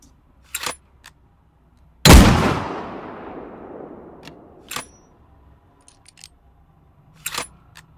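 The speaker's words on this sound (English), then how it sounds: "Next up is the Mauser 1918. This gun is huge and it's powerful" A designed gunshot from a Mauser 1918 anti-tank rifle: one huge, close blast with a long, rumbling decay, framed by sharp mechanical loading clicks and clacks before and after.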